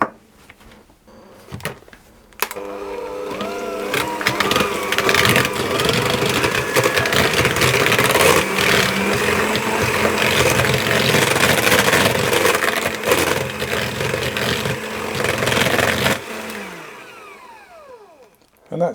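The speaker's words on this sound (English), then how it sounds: "I'm going to add the eggs in one at a time, and I'm going to whisk those until they're fully incorporated" Eggs being whisked one at a time into almond coconut cake batter, most likely with an electric mixer: a loud, steady motor whir with a rhythmic beating texture runs for about fourteen seconds, then stops, with no talk over it.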